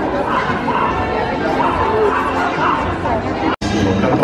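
Dogs at a purebred dog show in Opole, yipping and whimpering amid a busy crowd chatter, close and continuous with a brief cutout near the end.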